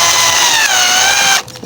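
A power drill drives screws to secure a deck light: a short, high whirring burst of the motor that stops abruptly after about a second and a half.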